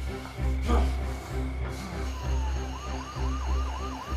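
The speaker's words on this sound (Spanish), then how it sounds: "Es una ambulancia" An ambulance siren wails, rising and falling in a rapid repeating whoop over a steady low engine rumble, loud and close, on a city street.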